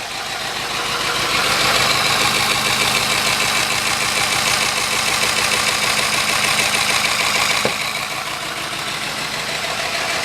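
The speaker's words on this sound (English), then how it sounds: "this is a high torque DC motor. It's running at high speed" A high-torque DC motor running at high speed on an 18-volt lithium-ion battery gives off a loud, continuous rattling hum with a steady rapid pulse throughout, with one faint click near the end.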